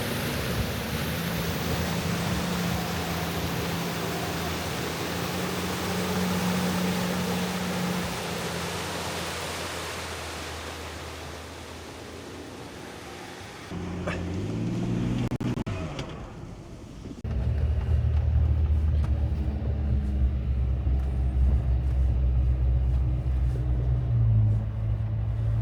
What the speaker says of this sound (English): Važiuojam per Kražantės brastą.